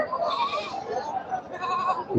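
Goats bleat at a busy Sunday livestock market where goats are bought and sold, their cries rising over a constant crowd murmur with people talking throughout.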